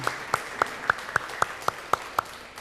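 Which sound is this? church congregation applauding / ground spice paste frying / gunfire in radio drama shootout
church congregation applauding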